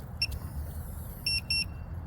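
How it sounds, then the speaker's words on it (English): Three short electronic beeps from a Latch It RV door lock as it locks, one then a quick pair a second later, over a low background rumble outdoors. "It beeps, it's locked."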